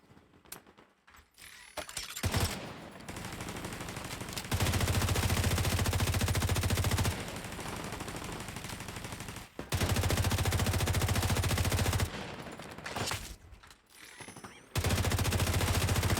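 Turret and weapon gunfire in a video game comes in loud rapid bursts, with sustained automatic fire alternating with brief pauses and shifting intensity.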